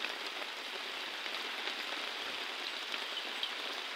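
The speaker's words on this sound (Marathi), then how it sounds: "पण भरपूर पाऊस चालू झाला" Heavy rain pours steadily onto surfaces, a dense continuous hiss of drops with no pauses, close and even in loudness throughout.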